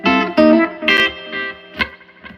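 Electric guitar through a hand-wired 2x10 amp powered by EL84 tubes with reverb, several distinct chords and picked notes in short bursts, each ringing briefly with a reverberant tail, loud and close, no voices.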